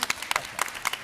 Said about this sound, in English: joint applause